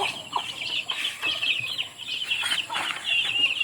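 Backyard chickens in a brooder cluck and peep continuously during feeding, a busy and fairly close chorus with occasional faint fluttering.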